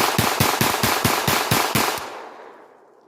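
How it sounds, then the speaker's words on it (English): A rapid string of about nine loud, evenly spaced pistol shots from a Sig P322 emptying its magazine in quick succession, each crack close and sharp, then echoes fading away. "Let's do a mag dump."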